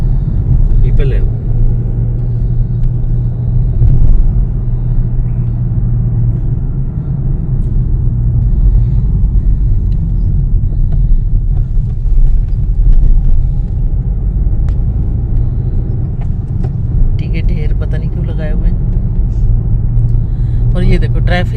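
A car drives through heavy traffic on the road from Mumbai to Surat, its low engine and road rumble steady throughout, with passing vehicles and occasional horns as people talk inside over the noise.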